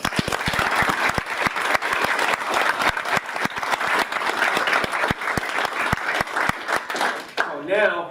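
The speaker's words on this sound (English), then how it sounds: "I'd like to give them a hand." Audience applause for local first responders, including a fire company and a community ambulance association, at a township board of supervisors meeting; steady, dense clapping throughout that fades near the end as a voice starts speaking.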